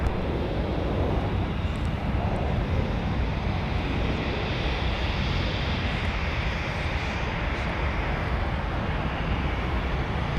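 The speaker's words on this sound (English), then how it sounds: "Delta 2825 on very short final, about to touch down from Atlanta Hartsfield Jackson with the 757" A Delta Boeing 757 on very short final into Minneapolis–Saint Paul airport, inbound from Atlanta, produces a continuous, even engine roar with a wind-like rush that stays level throughout and carries no voices.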